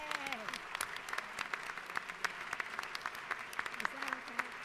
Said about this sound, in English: I hope you'll stand and give them a round of applause